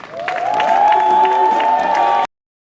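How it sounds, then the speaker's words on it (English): An audience at a community hero award ceremony in Fort Greene Park cheers and claps loudly, with whoops and a few voices rising over the applause before it cuts off abruptly. "giving a round of applause"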